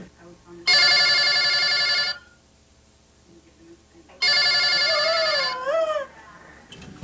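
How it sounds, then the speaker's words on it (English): Telephone ringing loudly indoors in a home, used by friends as an aurora alert in Alaska: two long electronic ring bursts separated by a pause, with a voice speaking faintly in between. "My friends will call up, let the phone ring twice, and hang up"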